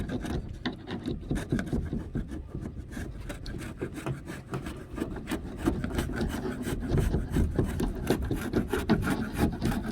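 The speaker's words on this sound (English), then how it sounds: "Keep the chisel fairly flat, but Rachel, you'll dig in." Chisel shaving lumps off a wooden canoe hull along the grain, giving a continuous close rasping scrape made of rapid repeated strokes that stay fairly even in loudness, with no talking.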